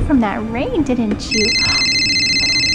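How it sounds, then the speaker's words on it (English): A mobile phone's electronic ringtone starts partway through and holds as a steady, continuous ring, coming in just after someone talks indoors. "Oh, that's my phone."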